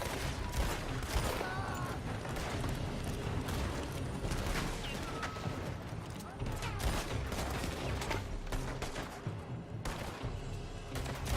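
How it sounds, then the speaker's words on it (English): Enemies fire from a building during a Red Dead Redemption 2 firefight. Dense, continuous volleys of gunshots crackle at close to mid range, with faint speech mixed into the chaotic battle. "They're shooting from that building."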